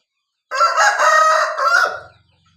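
A six-month-old young gamecock, a cross of Mee Suwan and black Muser lines, crows once loud and close, a single drawn-out cock-a-doodle-doo of about a second and a half that fades at the end.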